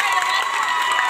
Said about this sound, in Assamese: আৰু অকণমান জোৰেৰে আৰু এজোৰা হাত চাপৰি।